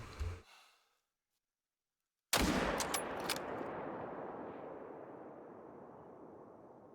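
A rifle is fired at a black bear in theHunter: Call of the Wild, one sharp loud shot followed by a long rolling echo that fades slowly, with a brief breathy sound before a silent gap.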